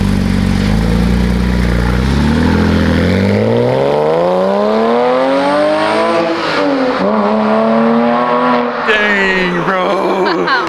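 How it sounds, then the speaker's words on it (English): A Porsche Cayman S fitted with a Circuit Werks exhaust roars past at full throttle, the engine pitch rising sharply then sweeping down as it passes, loud and close before fading with a pop at the end. "Now let's give it some full throttle drive-bys, okay?"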